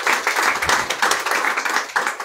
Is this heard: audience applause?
yes